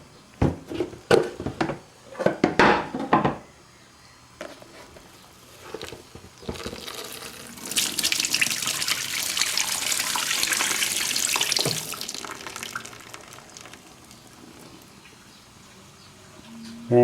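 Dirty carpet washer solution from a Vax Oasis Complete upright carpet washer pours into a sink, a steady rushing splash running several seconds after some knocks and handling, then tailing off.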